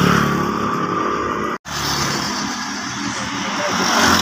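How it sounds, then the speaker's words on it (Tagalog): Motorcycles passing on a road on Siquijor, a steady loud engine roar close by with a momentary dropout, continuous for several seconds. "Mga motor pa rin."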